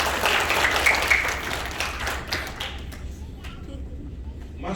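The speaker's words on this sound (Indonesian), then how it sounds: "Tepuk tangan yang semangat." A church congregation at a miracle service applauds enthusiastically, dense clapping that is loudest at the start and slowly thins out over several seconds.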